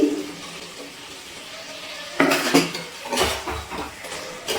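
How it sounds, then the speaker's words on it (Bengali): Kadai chicken with green chillies being stirred in a pan, a few clanking metal scrapes and knocks of a utensil against the cookware at close range over faint background noise. "নাড়াচাড়া করে নিচ্ছি ভালো করে"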